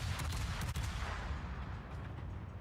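Warship guns fire in World of Warships: one heavy booming salvo with a deep rumble that rolls on and fades over about two and a half seconds.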